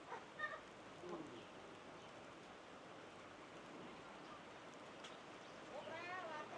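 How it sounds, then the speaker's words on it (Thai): Rain falls steadily at a rural building site in Savannakhet, Laos, where a bathroom is being built, giving a soft, even wash of noise with faint voices heard now and then. "ฝนพัดตกแล้วมื้อนี้นะ"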